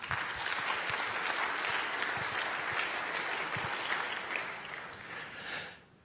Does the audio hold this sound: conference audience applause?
yes